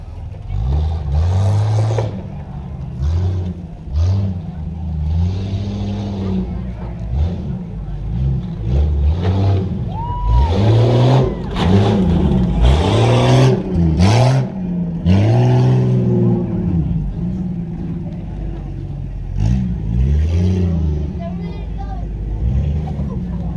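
Tuff trucks at a Chambersburg event climb and roar across a whoops section, engines revving and surging in waves, loud and close under a running announcer and crowd voices.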